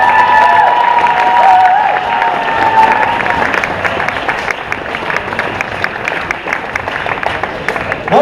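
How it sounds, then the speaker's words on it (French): Audience at the Otak'est 2018 cosplay contest applauding loudly, with cheers and scattered shouts layered into a dense, steady wash of clapping that starts strong and eases slightly. "On applaudit Edes!"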